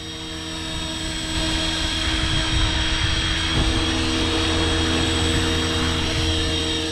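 A 500-size radio-controlled helicopter's rotor whirs and hums steadily and loudly, the engine tone holding even throughout with no voices.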